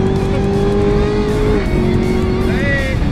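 Twin-turbo Chevrolet Camaro ZL1 built as an 8-second daily driver accelerating hard, its loud close engine note climbing in pitch, dropping at a shift and rising again, with a faint tire squeal and voices in the car.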